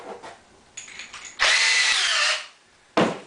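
Power drill driving pocket screws into a cedar face frame: short whirring bursts, then a loud sustained spin for about a second, and another abrupt burst at the end, close and alone.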